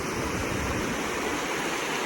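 Water pouring over a dam on a creek trail, a steady, dense rushing hiss with no breaks, moderately loud and close.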